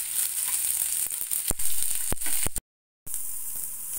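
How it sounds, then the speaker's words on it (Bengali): Pointed gourd pieces sizzle steadily in hot oil tempered with five-spice, a continuous close frying hiss with a few sharp stirring clatters and a brief gap of silence. "পটলগুলোকে একটু ভালো করে আগে ভেজে নিতে হবে।"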